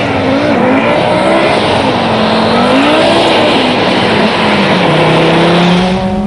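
An Audi Sport Quattro rally car driven flat out on an ice track, its engine roaring very loud and continuous with rising and falling revs throughout.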